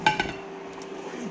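A plate is set out in a kitchen, giving two quick ceramic clinks close by, followed by quiet room tone.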